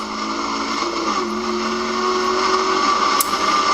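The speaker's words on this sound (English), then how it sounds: "start feeding on power to where you're full throttle when that wheel is straight in your hands" Lingenfelter Camaro Z28 accelerating toward full throttle on a race track, a sustained engine whine that climbs in pitch and holds steady and close, with no talking.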